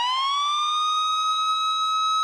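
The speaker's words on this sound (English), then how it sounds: "We have a siren." A synthesized siren sound effect from a riddim sample pack, one steady rising wail that climbs in pitch and then holds, rich in harmonics, loud and alone.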